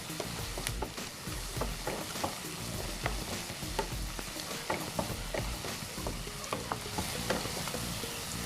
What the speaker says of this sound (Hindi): हम इसको तब तक चलाएंगे जब तक कि अच्छी तरह से हो ना जाए, क्योंकि अगर इसको नहीं फ्राई करेंगे तो ये अंदर तक जाएगा।